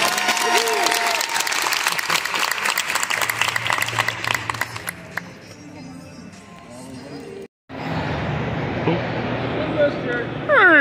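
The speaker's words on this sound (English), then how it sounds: "Please turn up lots of applause." Comic con panel audience bursting into applause, dense clapping that fades after a few seconds into quieter room noise, cuts off briefly, then gives way to a noisy crowded hall with voices.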